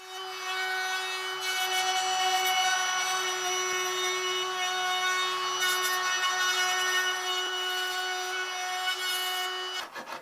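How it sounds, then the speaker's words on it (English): Wood being worked with a Stanley No. 75 hand plane gives a steady, continuous scraping rasp that keeps going for about ten seconds under a constant tonal hum, with a few short scuffs at the end. "Heard it said that the number 75 is one of Stanley's most useless planes, but works fine for this application."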